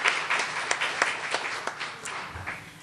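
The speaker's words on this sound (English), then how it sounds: "and another round of applause." Audience applause at an early education symposium, a moderately loud wash of clapping with scattered sharper individual claps, steady for a few seconds before gradually thinning out.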